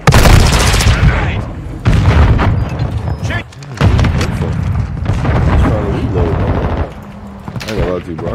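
A grenade blast amid a Call of Duty Modern Warfare 2 firefight on the Shoot House map, loud booming bursts and heavy gunfire in dense chunks, broken by short pauses, with voices talking over the action.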